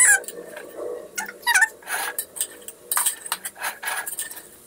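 A metal spoon scrapes and clinks against a pot while chicken biryani is served out, a series of close irregular clatters and taps with quiet gaps between.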